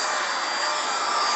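A VOVGUU 28KPA cordless stick vacuum runs in auto mode with a steady, close, high-pitched motor whine and airflow hiss, alone and unbroken.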